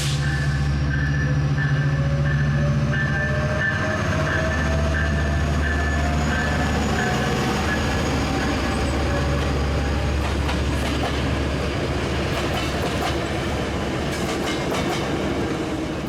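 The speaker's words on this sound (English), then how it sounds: "Metrolink 608 is the last train of the day on the Orange County line, headed towards Oceanside." A Metrolink commuter train on the Orange County line passes through Fullerton station, its steady rumble and clattering wheels sustained and loud throughout, with a faint high squeal riding above the rolling noise.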